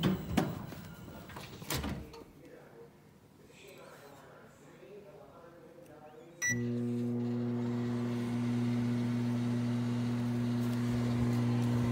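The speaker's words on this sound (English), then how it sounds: "And then you put it in the microwave for 20 seconds." A microwave oven runs with a steady, low electric hum after a door thump and start sound, heating a marshmallow, preceded by quiet handling noises.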